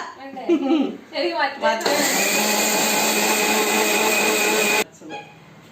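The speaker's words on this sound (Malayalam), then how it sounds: "മിക്സിക്ക് കടക്കാരൻ സൗണ്ട് കുറവാന്ന് പറഞ്ഞാലും നല്ല സൗണ്ടാണ്" A mixer grinder whirs loudly and steadily for about three seconds, then cuts off abruptly; people talk briefly before it starts and after it stops.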